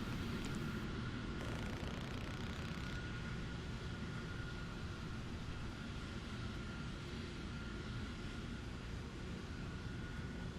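A jet aircraft engine in the video game War Thunder roars as a steady, loud broadband rumble and whine, continuous throughout with no talk.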